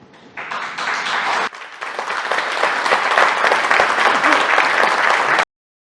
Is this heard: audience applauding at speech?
yes